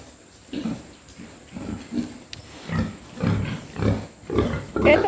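Native wild boar grunting in a pen, a series of repeated low rough grunts at irregular intervals, close and fairly loud, with no talking.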